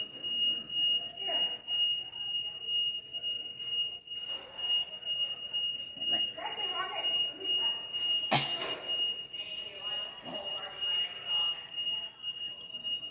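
A steady high-pitched electronic tone sounds continuously through the clip while people talk over it nearby.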